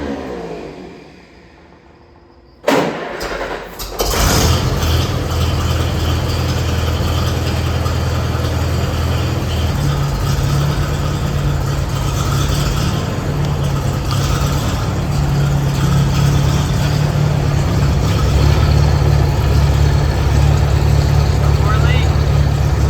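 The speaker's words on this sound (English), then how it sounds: "Let's start the tractor up and see if it leaks before I put this fender back on." A Minneapolis Moline 4 Star tractor engine, just fitted with a new flat belt pulley shaft seal, cranks briefly, catches and settles into a loud, steady idle close by, running continuously to the end.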